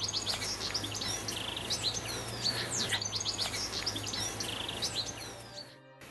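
Wild birds in the bush sing and chirp in a steady outdoor chorus, with many overlapping whistles and tweets at moderate distance over a low constant hum, and no voices.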